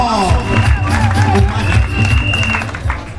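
Crowd at a political investiture ceremony for a women's section in Aboisso applauding a party official, dense clapping with cheering and babble, while loud musical tones play over it.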